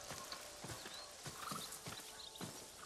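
Horse hooves clip-clop steadily at a walking pace in Ghost of Tsushima, roughly half a dozen distinct hoofbeats over ambient game background, with a faint whinny-like sound mixed in.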